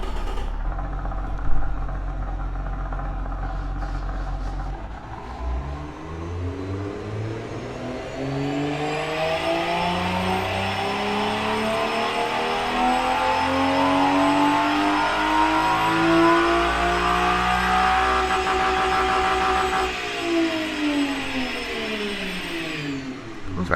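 A simulated car engine runs on a test bench in the Automation car-building game, with no mufflers fitted, idling and then revving up into a loud, sustained high-pitched whine before winding back down, heard alone without talk.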